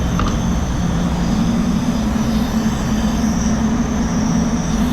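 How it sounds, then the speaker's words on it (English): A small handheld air blower drones steadily and loudly at close range while blowing off the surface of a Ford Ranger before painting, a continuous rushing whine with no breaks and no talking. "So my favorite new little blower."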